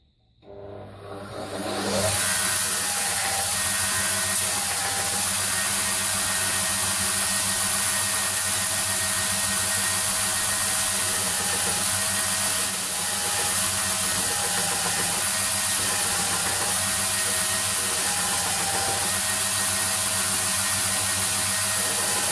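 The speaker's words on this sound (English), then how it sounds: "just grind it until the grind marks just touch the pommel there" A grinder shapes a knife handle, running steadily and loudly from start to finish after a brief spin-up, with a constant high whine over a low motor hum.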